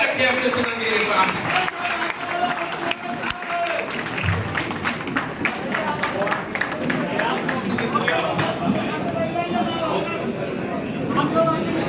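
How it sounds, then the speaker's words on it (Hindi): Continuous crowd applause fills a conference hall in Bhopal, a dense steady patter of clapping with babble and a voice speaking over it throughout. "तालियां जारी रखें अपने सदन के इमाम"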